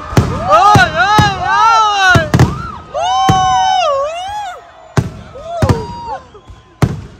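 Firecrackers burst at the Tiptur fair as a series of sharp, loud bangs spread irregularly through the clip, with excited voices talking and shouting between and over them.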